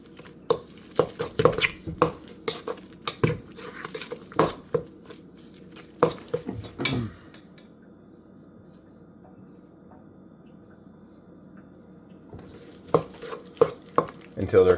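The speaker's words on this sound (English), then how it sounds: "Now I'm just going to incorporate that in to the mixture." A spoon stirs vanilla-bean-infused vodka into brookie pie batter in a bowl, giving sharp intermittent scrapes and knocks in bursts, with a quiet pause in the middle before the stirring resumes.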